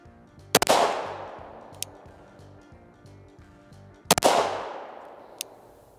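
Two sharp, loud pistol shots at a target range, spaced about three and a half seconds apart, each followed by a ringing echoing tail, with faint metallic clicks between them.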